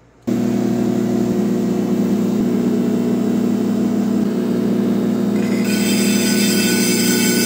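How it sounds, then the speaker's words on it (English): A polishing grinder works over concrete slabs, giving a loud, steady whirring drone that runs continuously with no break and brightens and grows harsher near the end. "today we're going to turn these two concrete slabs into polished slabs"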